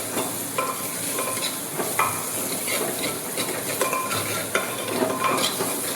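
Green chillies, ginger and onion stirred in a pan with a spoon, producing continuous scraping and clinking over a soft sizzle of frying.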